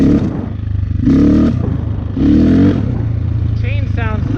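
A KTM 450 EXC dirt bike, revived after six years sitting with a carburetor fix, idles steadily and the throttle is whacked open twice in short roaring blips, with a voice briefly at the end.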